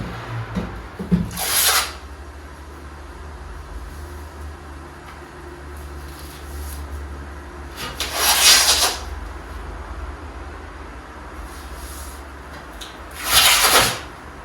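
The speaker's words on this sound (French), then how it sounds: "Et voilà, c'est poncé" Walls being sanded by hand before taping and painting in an old house: three short, separate bursts of dry rasping scrape over a quiet room hum, with long pauses between them.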